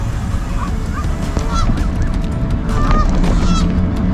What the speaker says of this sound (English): We got a goose traffic jam.